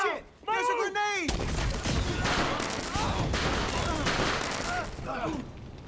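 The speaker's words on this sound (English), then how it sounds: "There's a grenade!" Loud grenade blast and sustained gunfire barrage in a video game, a dense burst of booming explosions and shots that rolls on for several seconds, with a voice briefly heard at the start.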